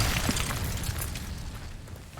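An Incendio fire spell bursts in Hogwarts Legacy gameplay on PS5, a heavy booming blast at the start that rumbles and fades over two seconds.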